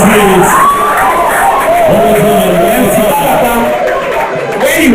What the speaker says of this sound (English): One more time, a round of applause, please.